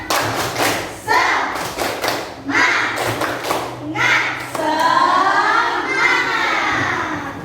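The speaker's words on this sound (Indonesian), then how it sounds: "Tepuk semangat." In a fifth-grade classroom, children perform a rhythmic spirit clap, tepuk semangat, with bursts of hand claps and thumps alternating with chanted group voices, close and loud, the chanting growing sustained toward the end.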